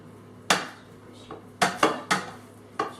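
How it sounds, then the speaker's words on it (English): A dinner plate is set aside on a table during a Mexican street corn (elotes) meal, giving a series of sharp, close ceramic clatters and knocks, about six in total, spaced unevenly over a few seconds with no talking. "Let me set this plate aside so I'm not getting all this corn on top of that."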